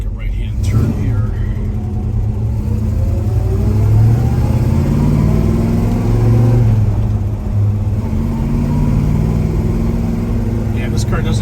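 A 1969 Chevrolet Chevelle 396 engine hums and rises in pitch as the car accelerates, a steady close rumble with people talking over it.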